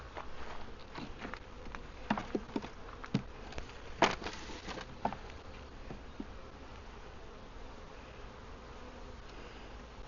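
Honey bees hum faintly around an opened hive during a Wisconsin summer nectar flow, a low continuous drone with scattered close buzzes and light handling taps.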